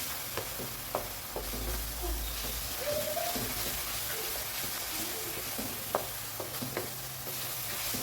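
Masala sautéed in oil for brinjal kara kuzhambu, stirred in a pan: a low, steady sizzle with scattered scraping clicks of the spoon against the vessel, fairly quiet and continuous throughout.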